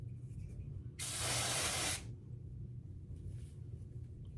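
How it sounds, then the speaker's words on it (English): A single one-second burst of L'Oreal Root Spray, light golden brown, hisses along a hair part line, faint and close, then quiet room tone follows. "I'm gonna do just a little bit of the L'Oreal Root Spray"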